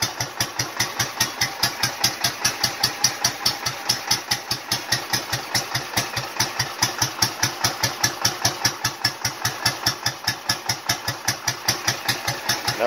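A warmed-up Royal Enfield motorcycle engine at low idle on a porch, a loud, close, slow and steady thumping pulse, each beat evenly spaced in a relaxed single-cylinder rhythm.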